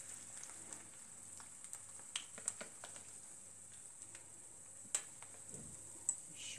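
Syrniki, cottage cheese pancakes, frying in hot oil in a pan: a steady faint sizzle and crackle with occasional small pops and ticks, close by and quiet, with no talk.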